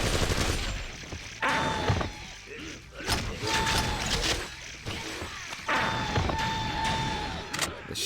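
Space shotgun in a Doom-style video game fires in a few sharp, loud blasts spaced a couple of seconds apart, each followed by a ringing metallic mechanical rattle and clack.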